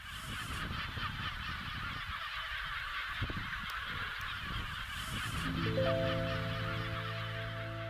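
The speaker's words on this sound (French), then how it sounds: "il y a une belle colonie de goélands" A colony of gulls at Lake Sevan, Armenia, calls continuously in a dense, harsh chorus from many birds at once, steady and moderately near, with no voices over it.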